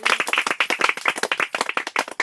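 Congregation at a church healing service clapping hands loudly and quickly, a dense run of sharp overlapping claps with no talking.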